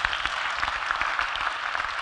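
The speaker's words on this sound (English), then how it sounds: "Come on, somebody clap your hands." A church congregation claps hands together, a dense, steady wash of applause from many people that sounds fairly loud and continuous, with no talk over it.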